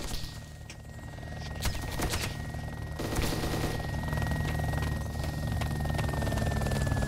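Helicopter in the Arma video game on the Takistan map, a steady rotor drone hovering close, with bursts of gunfire and sharp cracks in the opening seconds.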